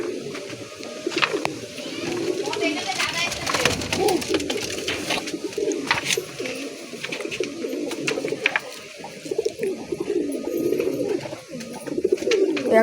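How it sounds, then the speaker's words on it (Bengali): Kaldama pigeons coo steadily with soft, throaty repeated calls at close range, a continuous layered cooing across the whole stretch with a faint voice now and then in the background. "আপনাদের দুটো কালদমা পায়রা দেখাচ্ছি"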